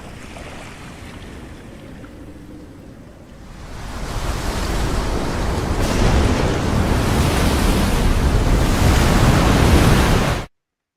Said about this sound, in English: Those were just water sounds.